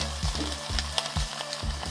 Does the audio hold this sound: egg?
yes